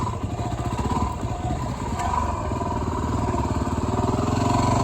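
A motorcycle engine thrums steadily and close by as it works around a practice course for a skills exam, with sharp turns and a double hump, holding a constant mid-pitched drone without pause.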